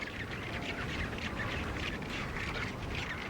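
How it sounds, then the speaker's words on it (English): A noisy colony of rockhopper penguins nesting among blue-eyed king cormorants, a dense continuous wash of overlapping squawks and harsh calls, steady and moderately loud with no voices. "They nest among a colony of blue-eyed king cormorants"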